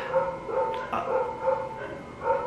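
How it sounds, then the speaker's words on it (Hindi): Several dogs bark in short, separate bursts at a steady rhythm, fairly close and moderately loud, with no talking over them. "मेरे कुत्तों के भौंकने की आवाज़ आप तक पहुँच रही होगी"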